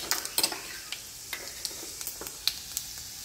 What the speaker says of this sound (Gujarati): તો જો સડી ગયું કયું હવે આપણે નીંગ લઈ નાખી દઈએ જીરું